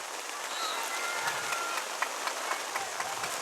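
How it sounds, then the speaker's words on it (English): Heavy rain pours steadily throughout a high school football game between the SJ Eagles and Richland Springs Coyotes, a dense hiss of rainfall with scattered sharper drops and no talk. "as the rain comes down even harder"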